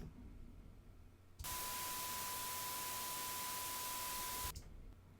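A dithered 8-bit 1 kHz test tone sounds as a clean steady beep buried in loud, even broadband hiss, lasting about three seconds with abrupt start and stop over a quiet background.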